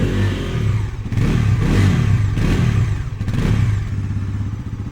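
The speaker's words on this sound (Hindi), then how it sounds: "जब आप इंजन को रेव करेंगे तो कुछ ऐसा एग्जॉस्ट नोट आपको यहाँ पे सुनने के लिए मिलेगा" A 2025 Bajaj Pulsar NS 400Z motorcycle engine is revved in several quick blips, its exhaust note rising and falling close by, loud and with no talk over it.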